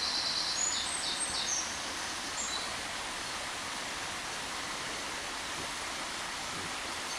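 A river current rushes steadily as a continuous broadband wash of water, close and even throughout, with a few faint high bird calls near the start and no talking.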